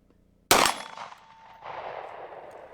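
A Foxtrot Mike FM45 fires its last round as one sharp, loud, close shot with a ringing tail. A metallic clack follows a moment later as the bolt locks open.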